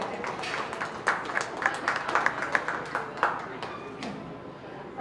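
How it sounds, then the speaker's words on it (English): Audience applause at a county fair open class beef cattle show, a scattered round of clapping from a modest crowd in a show ring, moderately loud and fading toward the end. "So let's give those exhibitors a nice big round of applause."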